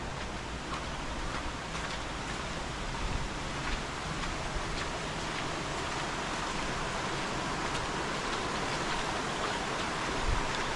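Water runs alongside a Ganpati temple in the Konkan countryside, near a waterfall. It makes an even, unbroken rushing hiss, fairly close and constant throughout.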